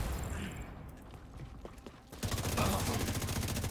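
Rapid gunfire from The Division video game, with scattered shots early and then a dense, loud burst of automatic fire near the end, close and sustained.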